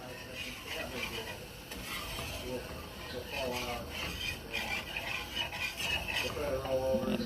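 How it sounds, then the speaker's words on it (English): A whisk works through milk sauce for mac and cheese in a pot, making a steady, continuous scraping and swishing that runs the whole stretch, with muffled talk at times. "And then you always want to be stirring it constantly."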